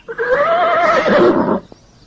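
A horse gives one loud, close whinny lasting about a second and a half, rising and wavering in pitch before cutting off, followed by a faint tap and quiet.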